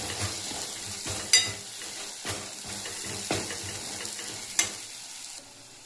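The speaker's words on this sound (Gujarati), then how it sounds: "ત્યારબાદ તેમાં લીલું લસણ મરચાંની પેસ્ટ નાખીશું અને બધાને હલાવતા રહીશું" Onions, turmeric, green garlic and chili paste sauté in a pan with a soft, steady sizzle, broken by several sharp clinks and scrapes of a spoon stirring, fairly quiet and close.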